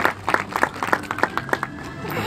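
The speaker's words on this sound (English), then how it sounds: "an extra round of applause because she feels like she deserves it" A live audience claps for Anya the sea lion after her graceful belly slide at a marine animal show, a fairly close burst of clapping with distinct slaps that fades out near the end.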